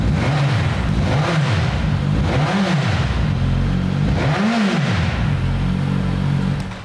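A Suzuki GSX-S motorcycle with its stock exhaust revs up and drops back several times in a steady rhythm, loud and close over a constant idling rumble, with no voices.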